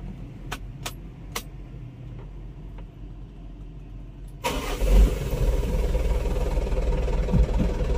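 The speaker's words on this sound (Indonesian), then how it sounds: "Pertama-tama kita nyalakan mesin." A few faint clicks come first, then a dump truck engine cranks and catches into a steady, loud diesel idle that rumbles on.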